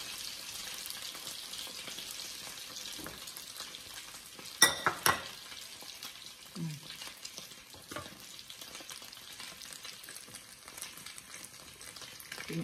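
Tortang giniling, a ground meat omelette, frying in a pan with a steady close sizzle throughout, interrupted by a few sharp clinks of a utensil against the pan near the middle.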